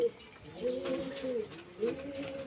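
Pigeons coo in soft repeated bursts nearby, low throaty calls rising and falling in a gentle rhythm, with faint background sound beneath.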